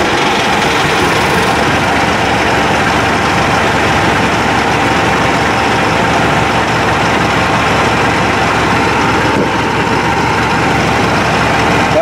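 A Mahindra 8560 tractor diesel engine with a grid heater idles steadily and loudly up close, a continuous low rumble with no talk over it.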